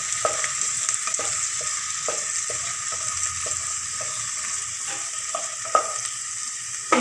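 Chopped capsicum stir-fried with onion in a hot pan for soya chilli, a steady oily sizzle with soft scrapes and taps of the spatula at irregular intervals, close up, no talk.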